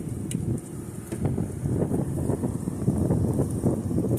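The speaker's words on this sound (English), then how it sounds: "It's pretty windy out here" Strong wind blowing outdoors on a chilly day near traffic lights at a high school, a steady gusty rush buffeting the microphone, loud and continuous with no voices.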